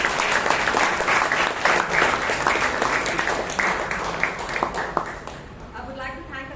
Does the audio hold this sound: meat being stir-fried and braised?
no